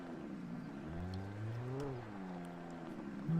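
A car engine in the video game Alan Wake revs up, its tone rising and falling in a smooth swell over low ambient game noise, moderately loud.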